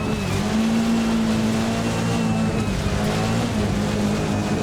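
Peugeot 306 Maxi Kit Car engine in Richard Burns Rally, a steady loud drone holding high revs with small pitch dips as gears shift, continuous throughout with no talk.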